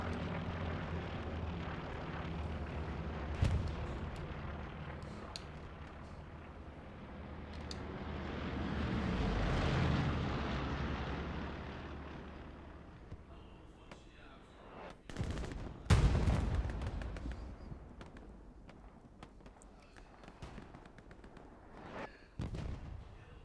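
Aircraft roar overhead during a bombing run in the console war game Hell Let Loose, a swelling drone with sharp explosions and scattered gunfire, no talk over it.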